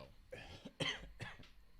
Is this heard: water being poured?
no